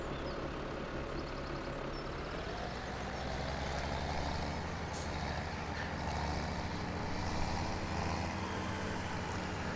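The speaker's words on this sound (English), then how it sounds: "Okay, I'll wait for the pickup truck," A pickup truck passes in Farming Simulator 17 on the BallinCraig Estate map, a steady, fairly loud engine-and-road rumble with a broad hiss that holds for the whole stretch, with no talking.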